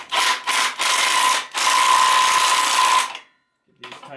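A socket wrench threads bolts into a Duramax engine with several loud bursts of rapid ratcheting and whirring, the longest lasting about a second and a half, before a brief pause and a faint final stretch.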